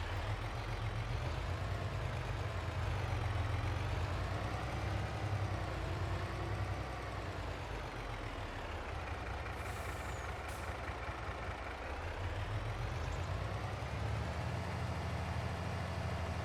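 A truck engine idles in the Farming Simulator 22 video game, producing a steady, low, droning rumble that holds evenly for the whole stretch with no voices over it.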